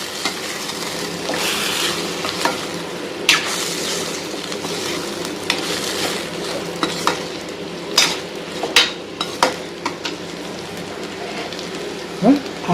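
Chicken deep frying in hot oil gives a steady, close sizzling hiss with scattered sharp pops and spoon clatter throughout, and no voices.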